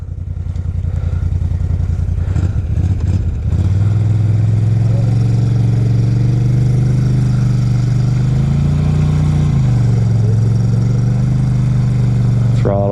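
Off-road vehicle engine revs hard on the throttle, loud and close, a steady rising drone with pitch swells around the middle, outdoors on wet, thawing ground; brief clatter early on.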